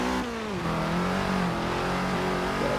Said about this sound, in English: Downshift, there we go.